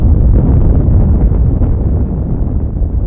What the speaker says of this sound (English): it's just so windy.